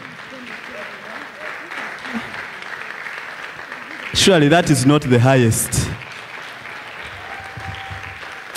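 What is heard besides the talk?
audience clapping hands at conference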